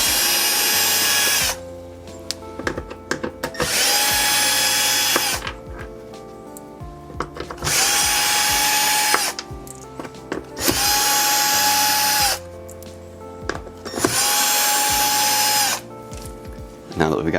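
A power drill backs five screws out of a trim cover inside a Lexus LX, each one a loud whirring burst of about two seconds, separated by brief pauses with small clicks and handling noise.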